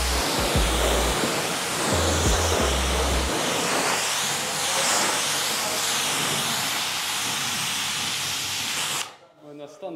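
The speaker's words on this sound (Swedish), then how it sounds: "Nu ser han vit ut, så vi spolar av och kollar så att det känns bra." Water sprays steadily from a hose, rinsing a freshly scrubbed surface in a continuous loud hiss for about nine seconds, with brief low thumps early on, then cuts off abruptly near the end.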